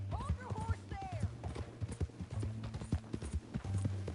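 A horse's hooves clip-clop steadily in Red Dead Redemption 2, a quiet rhythmic trot heard under brief vocal sounds and game ambience.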